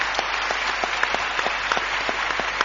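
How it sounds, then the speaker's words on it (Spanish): Audience applause at a live radio event, a steady patter of clapping from a modest crowd with distinct individual claps standing out, continuous for a few seconds. "Les daría otro aplauso inmenso a dos gallegos."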